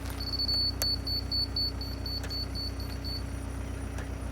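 A construction laser level's receiver emits a slow series of short, evenly spaced high beeps, about a dozen in a row, over steady engine hum at a dog kennel dig site with a trackhoe.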